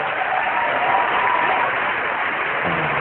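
Sustained audience applause on Arab's Got Talent, a dense, even wash of clapping filling the room, steady and loud with no pauses, without talking.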